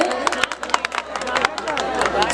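An audience at an All India Mushaira poetry gathering claps, with sharp, uneven hand claps popping out over a spoken voice across a couple of seconds.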